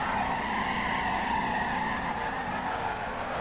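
Car tires skid and squeal continuously during an online skid pad burnout battle in the Torque Burnout mobile racing game, with a loud, sustained screech layered over engine roar.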